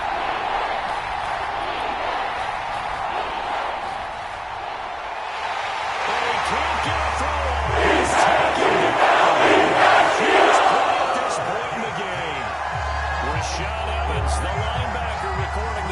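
Stadium crowd roaring in a football video game, a loud continuous wash of cheering that swells louder midway, with low rumbling and a commentator talking over it.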